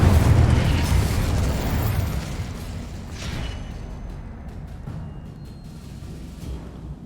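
Combat spells fire in Hogwarts Legacy, a disarming blast and a fire spell, heard as loud booming bursts with whooshing impacts that fade into a lingering rumble, one hit after another.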